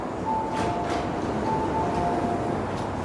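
An MTR train pulls into Tai Shui Hang Station with a steady low rumble and a thin brake whine that sounds twice as it slows, fairly close and without speech.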